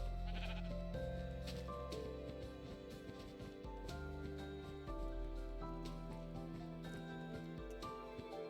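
A Minecraft sheep in a video game lets out brief bleats that sit amid continuous background game music and soft ambient tones, no voices present.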